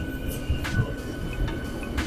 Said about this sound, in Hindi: okay bro my train is coming